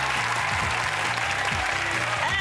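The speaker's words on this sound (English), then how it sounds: "Round of applause for that at the very least." A game-show studio audience, at the series finale of Are You Smarter Than A 5th Grader, breaks into loud, sustained applause, thick clapping that carries on without pause, with faint music tones underneath.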